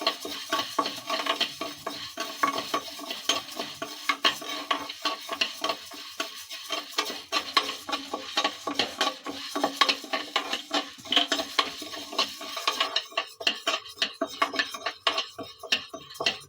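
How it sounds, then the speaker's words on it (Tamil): Dry toor dal, 150 grams, being stirred and dry-fried in a hot pan for sambar powder, giving a steady dense rattle and scrape of lentils and spoon against metal, busy and continuous throughout with no talk. "இதில் 150 கிராம் துவரம்பருப்பு, இதை ஃப்ரை பண்ணிக்கலாம்"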